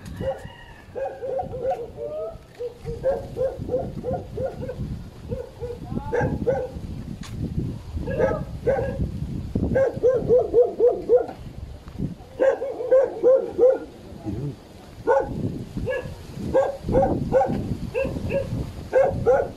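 Several dogs bark repeatedly in bursts, fairly close, at a free anti-rabies vaccination event, with a rooster-like call mixed in amid outdoor background noise.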